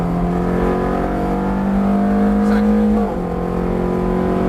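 A Ferrari F430 on track at full throttle: the engine roars loudly and climbs steadily in pitch, then drops sharply at an upshift and keeps pulling. A voice talks briefly underneath.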